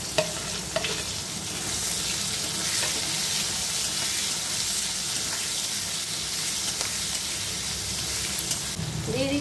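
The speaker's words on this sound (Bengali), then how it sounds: "এবার দিয়ে দিচ্ছি কেটে রাখা পেঁয়াজ আর রসুন।" Chopped onion and garlic drop into hot oil already holding lightly fried nigella seeds and dried red chillies, sizzling steadily and loudly in the pan with occasional stirring scrapes throughout.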